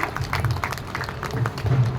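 At a jewellery shop inauguration, an audience claps through a short burst of applause, with a voice faintly underneath.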